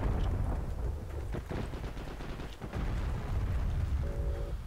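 PPD submachine gun fire in Heroes & Generals, rapid loud bursts of automatic shots close by, repeated in clusters over a rumbling battlefield background.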